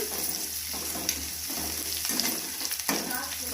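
Mustard seeds, onion, chana dal, peanuts and green chillies frying in oil for semolina upma, a steady close sizzle broken by repeated scraping stirs of a spoon against the pan.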